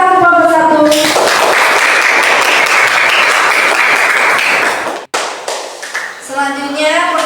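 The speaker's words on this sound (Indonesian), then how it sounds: "Tepuk tangan kelompok 1." A classroom bursts into loud clapping for group 1 during a lesson, a strong burst of applause between stretches of a voice, with talking resuming as it fades.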